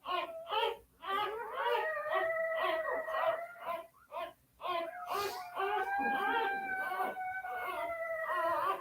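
A puppy howling in long, wavering, siren-like wails, rising and falling in several drawn-out cries with brief breaks between them, close and fairly loud.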